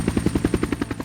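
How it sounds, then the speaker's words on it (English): A helicopter arrives to airlift a large fossil out of a river, its rotor beating in a fast, even chop of regular thumps over a low engine drone, close and fairly loud. "Call in the chopper to airlift it to the museum"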